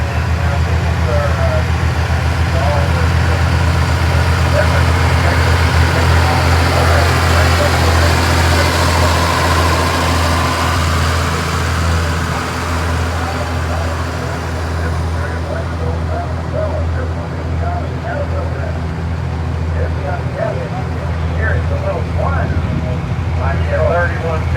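Vintage Oliver tractors roll past in a parade at the National Oliver Show in Boonville, Missouri, one fitted with a Cummins engine, giving a steady, loud low diesel rumble and idle drone throughout, with a crowd murmuring in the background.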